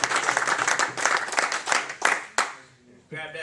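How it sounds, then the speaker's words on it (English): Applause from an audience of people waking up at a closing session, a dense burst of clapping that thins out and stops, with a voice speaking over its end. "Clap for it."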